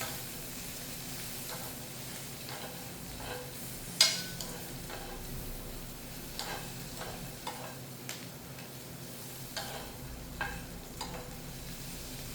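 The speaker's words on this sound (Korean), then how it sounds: "멸치를 그냥 이거 바로 넣을게요" Anchovies sizzle softly as they stir-fry in a hot pan while a utensil scrapes and taps now and then, quiet and close, with no talking.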